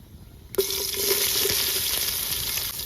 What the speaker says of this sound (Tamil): இது எல்லாத்தையும் போட்டு இப்போ பொரிய விட போகிறோம்